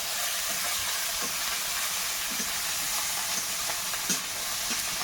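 Garlic, ginger, chopped onion and green chillies hit hot oil together with a loud, continuous close sizzle and hiss, with soft stirring clicks scattered through it and no talking.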